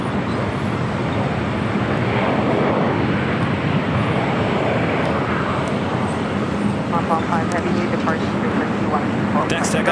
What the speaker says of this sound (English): Next takeoff here on the south side is on the Japan Airways Flight 5, heading to Tokyo Narita on a 787-9 Dreamliner.